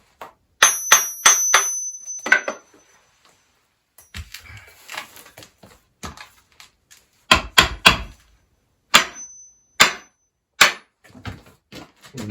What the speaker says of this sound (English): And just give it some knocks on the base.